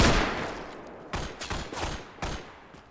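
Gunfire in the military video game Arma with the Antistasi mode: a loud shot followed by a handful of separate, sharp reports spaced roughly a third of a second to half a second apart, with no voices.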